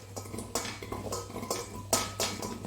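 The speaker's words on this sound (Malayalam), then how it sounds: "ഈ കൊള്ളി കുക്കറിലേക്ക് ഇട്ട് കൊടുക്കാം" Cassava pieces dropped into a pressure cooker give a run of close, fairly soft knocks and clinks against metal, spaced through the moment over a steady low hum, with no one talking.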